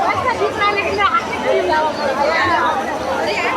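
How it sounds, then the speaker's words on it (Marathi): A huge crowd of devotees at the ISKCON Mira Road Jagannath Rath Yatra fills the air with dense, continuous chatter and overlapping voices, steady and close all around. "प्रचंड गर्दी आहे, प्रचंड."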